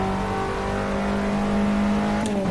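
Abarth 500 engine in Assetto Corsa revving steadily on a dirt rally stage, a loud, sustained buzzing drone with constant harmonics that holds for the whole stretch, with a brief sharp blip near the end.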